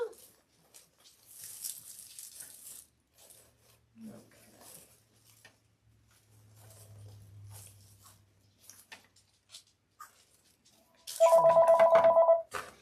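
A telephone rings loudly and close by near the end, a steady repeating electronic trill cutting in after quieter stretches of faint room noise, light handling sounds and brief talk during a Santa gnome craft session.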